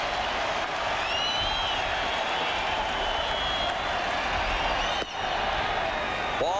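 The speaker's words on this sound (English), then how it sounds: "A sellout crowd here at Jacobs Field, again on their feet" A sellout baseball crowd at Jacobs Field stands and cheers through a World Series game, a dense, steady roar of applause and voices that holds loud and unbroken throughout, with a brief dip near the end.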